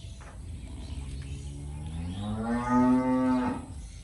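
A dairy cow in a cow shed lets out one long, loud moo that rises and swells toward the end, over a steady low background hum of the barn.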